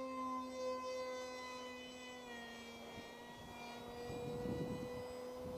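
An RC F-18 model jet flies close by in windy conditions, its thin whining engine tone steady and rising faintly in pitch with a few whooshing gusts near the end.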